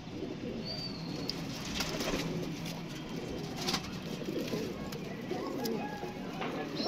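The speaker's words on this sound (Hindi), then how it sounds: "ये भी दोस्तों अकेला कबूतर है जी, टैडी कबूतर है ये भी" A lone teddy pigeon coos softly among other birds, with faint calls over a steady, fairly quiet background hiss.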